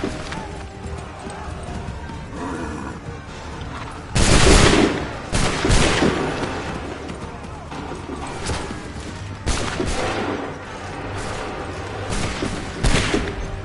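Musket volley fired on command in Assassin's Creed III Remastered on PS5: a loud crackling burst of gunfire, then further ragged shots and a second strong volley later, over continuous battlefield din.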